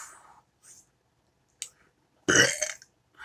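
A loud, sudden burp bursts out near the end, close and harsh, following a few faint mouth clicks and quiet sounds during a snack tasting of Little Debbie Easter carrot cake rolls.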